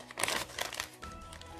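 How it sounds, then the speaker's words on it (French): Scissors trimming the overhanging edges of a paper envelope for a travel-themed junk journal insert, heard as a few close, crisp crinkling snips and paper rustles in quick succession, with no talking. "je vais venir couper ici ce qui dépasse sur les bords de mon enveloppe"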